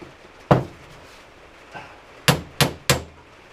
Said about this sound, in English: Handy little tool to have is an impact driver.